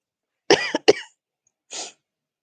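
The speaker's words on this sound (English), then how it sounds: "sorry, I just had to cough." Two sharp coughs in quick succession, close by, followed a moment later by a softer breathy exhale.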